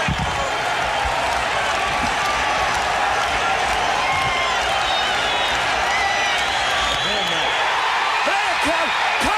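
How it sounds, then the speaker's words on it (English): Dense, roaring crowd noise fills a Chicago Cubs baseball stadium, steady and loud throughout with cheering and clapping blended into a constant wash, with voices talking over it. "Listen to those crowds."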